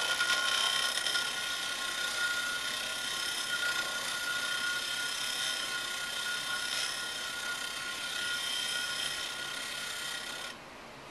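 A wood lathe faces off a segmented wooden bowl with a continuous raspy scraping hiss from the tool on the spinning wood. The sound is close and steady and cuts off abruptly at the end.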